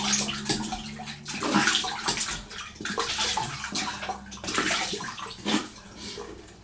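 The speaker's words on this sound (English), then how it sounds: "I'm just going to wet my face again because it's a bit dry." Water splashes and sloshes close by as hands wet a face with two days of stubble before a straight-razor shave, with irregular surges of splashing and dripping and no speech.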